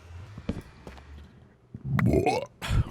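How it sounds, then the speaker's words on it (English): A loud, gurgling burp after drinking Red Bull, heard alone as a rising rumble that ends in a second short burst. "Whoa, a Red Bull burp."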